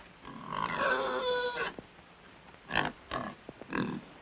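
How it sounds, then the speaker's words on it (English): A pig grunts close by: a long rumbling snort, then a few short, choppy grunts with pauses between. "Nice pig."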